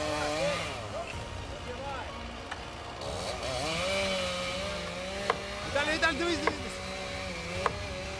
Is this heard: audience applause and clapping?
no